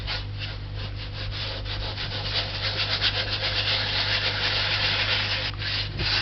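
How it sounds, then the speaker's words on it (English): Dough being rubbed off a work surface by hand while cleaning up after making spice buns, a continuous close scrubbing rasp with a steady low hum underneath. "I was rubbing this because I don't want any dough on it when I rinse it off"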